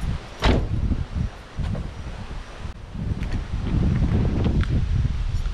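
Car door opening and closing as the driver climbs out of a straight-piped Genesis Coupe downtown, a couple of thumps and clunks close by amid wind buffeting the microphone.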